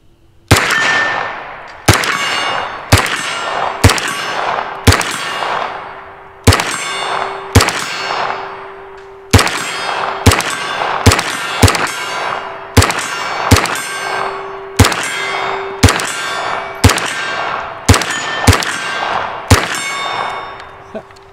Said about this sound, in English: we're gonna put a few rounds down range here.